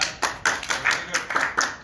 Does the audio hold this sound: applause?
yes